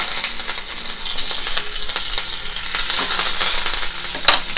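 Curry leaves dropped into hot oil with fennel for a coconut potato stew, giving a loud, steady crackling sizzle up close with scattered sharper pops and stirring, no talking.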